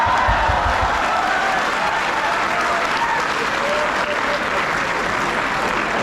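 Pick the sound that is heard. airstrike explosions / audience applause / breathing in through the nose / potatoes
audience applause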